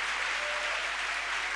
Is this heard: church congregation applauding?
yes